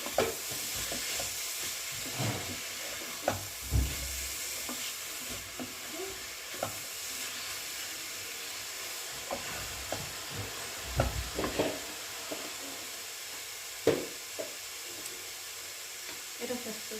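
Food frying in a pan while being stirred with a utensil after salt and ground black pepper are added: a soft background sizzle broken by repeated scraping and clinking strokes at irregular intervals, with occasional faint voices.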